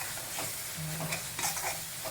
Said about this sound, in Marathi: पहिला आधी मिक्स करून घेऊया